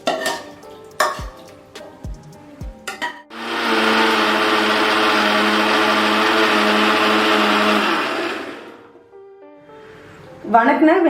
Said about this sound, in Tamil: இதை ஒரு மிக்சியில் மாற்றி அரைச்சி எடுத்துக்கலாம்